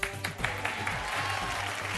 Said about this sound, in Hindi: ताली तो बजाओ जो बैठे लोग